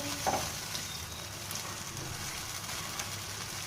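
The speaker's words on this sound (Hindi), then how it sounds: "हम इसको हम अच्छी तरह से भून लेंगे।" Meat and masala with yogurt and ghee fry for achar gosht, giving a steady, close sizzle and crackle with occasional spoon scrapes as the pot is stirred; no one speaks.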